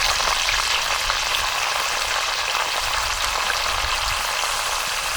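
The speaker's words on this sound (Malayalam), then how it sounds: "ഇനി നമുക്ക് ഇതെല്ലാം പച്ചമുളക് വേപ്പില ഇഞ്ചി വെളുത്തുള്ളി ഇതെല്ലാം കൂടി ഒന്ന് വാട്ടിയെടുക്കാം" Green chili, curry leaves, ginger and garlic sauté in a pan with a steady, close hiss of frying oil that runs unbroken and fairly quiet, with no talk.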